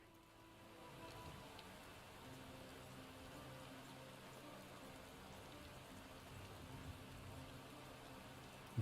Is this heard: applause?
no